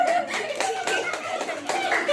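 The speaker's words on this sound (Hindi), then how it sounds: "तालियां" Church congregation at a Sunday service clapping in a brief scattered round, with light laughter and chuckling mixed in, moderately close and fading unevenly.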